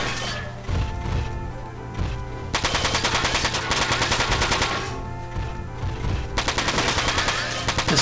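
Bursts of rapid gunfire from a turn-based attack in the mech strategy game Front Mission 4, loud dense volleys in two long stretches with brief pauses over a steady background music bed.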